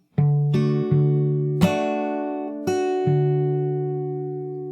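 Fingerstyle acoustic guitar plays a short passage with slaps: five or six sharp struck attacks, each leaving bright sustained chord tones ringing close and alone.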